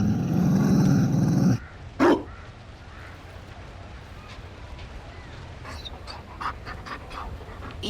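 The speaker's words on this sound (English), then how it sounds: "You found a dog?" A Mabari war dog in Dragon Age: Inquisition pants and gives a short growl, close and fairly quiet after a loud burst of game noise, with a few faint sharp sounds following.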